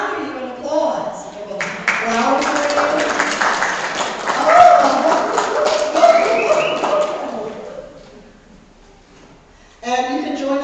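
Warm applause from a Sunday spiritual center congregation welcoming first-time visitors, a steady wash of clapping with voices over it, tapering off before speech resumes.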